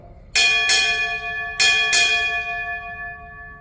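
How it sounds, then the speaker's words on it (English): A ship's bell rings four times in two quick pairs at a military retirement ceremony, each clear metallic strike ringing on and slowly fading in a quiet space. "Sound 4 bells."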